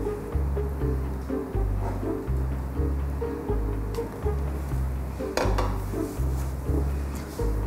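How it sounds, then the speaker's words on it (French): A fork beats and clinks against a bowl, mixing dry ingredients with apple for a compote-style recipe, in a steady rhythmic series of close scraping taps over a low kitchen hum. "Premier coup de fourchette pour commencer à incorporer tout ça"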